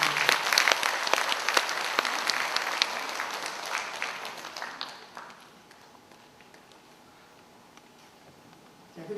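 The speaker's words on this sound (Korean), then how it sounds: "한 박수로 맞아주십니다" Applause greets a guest at a Korean independence-group centenary ceremony, dense clapping for about five seconds then fading to quiet room tone, with a fresh burst of clapping at the very end.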